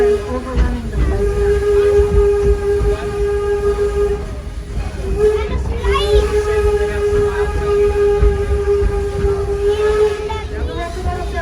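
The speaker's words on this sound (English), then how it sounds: "The locomotive that's pulling our train right now is called the Baldwin No.7." Baldwin No.7 steam locomotive, built in 1897, pulling a passenger train, its whistle sounding in long sustained blasts over the rumble of the rolling cars, with some talk mixed in.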